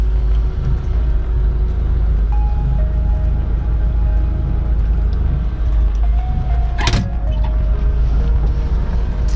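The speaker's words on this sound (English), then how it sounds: "So we're taking a ride in Scott's Samurai" A 1988 Suzuki Samurai off-road vehicle drives on rough roads, its engine giving a loud, steady low rumble from inside the cabin, with a brief rattle or clunk partway through.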